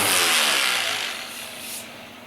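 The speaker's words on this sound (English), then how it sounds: "I'm going to go and drill the pocket holes in the two, or actually three 8-inch stringers" A drill bores pocket holes in oak stringers using a Kreg Jig K5, giving a loud high whine that starts strong and slowly winds down before a second short rise and fade.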